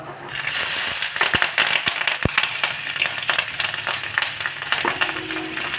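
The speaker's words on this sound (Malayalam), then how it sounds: "പച്ചമുളകും സവോള ഇട്ട് കൊടുക്കാം" Onions and green chillies crackle and sizzle in hot oil, with sharp pops and a few distinct spatter clicks over a constant frying hiss.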